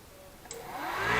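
A Pocweld 200 welding machine powering on: a click, then a rising fan-like whir that swells steadily louder as it spins up, close by with no talk.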